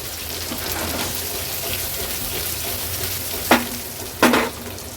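Bell peppers and other vegetables are tossed in hot oil for restaurant-style fried rice. A steady, dense sizzle runs throughout, with two sharp scraping clatters of the pan or spatula near the end.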